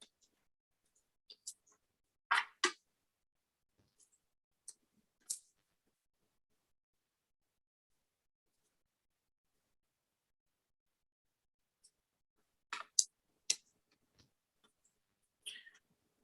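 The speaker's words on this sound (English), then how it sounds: "I'm going to do one more shuffle" Tarot cards being shuffled by hand: soft, papery riffling clicks in two short clusters separated by a long quiet stretch, close and fairly faint.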